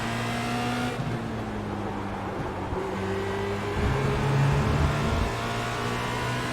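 Formula Renault 2.0 race car engine in the iRacing sim accelerating hard out of a corner, a steady loud, high-revving drone that climbs in pitch and holds near throughout, with no talk over it.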